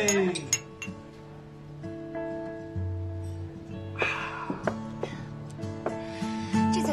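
Glasses clink together several times in a celebratory family toast at a dinner table, bright short chinks scattered over a few seconds, with people talking and a faint background tone underneath.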